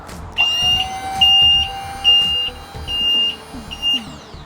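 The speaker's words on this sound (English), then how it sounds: "as you can hear, it has a quite a loud alarm to let people know that you are tipping" A loud electronic tipping warning alarm on a Grafter N35.125 tipper truck beeps in a repeating pattern, about five high piercing tones with short gaps, over a low engine hum.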